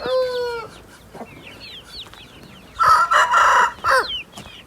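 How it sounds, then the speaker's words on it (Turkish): A nearby rooster crows loudly, with hens clucking before and after in short, squawky bursts. "Evet burada horoz arkadaşlar."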